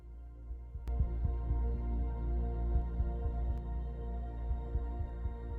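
A low, steady background tone pulses at a slow, regular heartbeat-like pace, with soft rhythmic throbs under a continuous hum, quiet and alone without speech.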